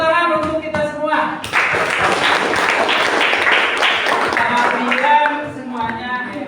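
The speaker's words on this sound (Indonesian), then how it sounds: "Tepuk tangan untuk kita semua." A classroom group of students breaks into lively, dense applause after a voice speaks, the clapping sustained and close for several seconds before fading as talk returns.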